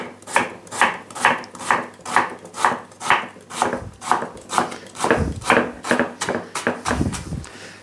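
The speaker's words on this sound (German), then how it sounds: "Jetzt ein bisschen Rotkohl schneiden, ich ganz feine Streifen" Knife chopping red cabbage into very fine strips on a board, a steady run of about a dozen crisp, evenly spaced cuts close up, growing slightly heavier and less regular toward the end, with no talking.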